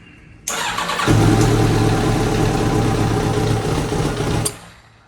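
Kawasaki Ninja ZX7R motorcycle engine catches and settles into a steady, loud, close idle with a low rumble that runs for about four seconds before cutting off.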